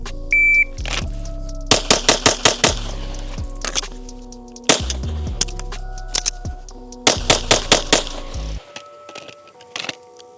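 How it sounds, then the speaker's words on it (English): Rapid strings of loud Glock 17 pistol shots fired in quick bursts during a timed shooting drill, with short pauses between volleys, a reload gap and a brief timer beep at the start. "let's run this with the Glock first"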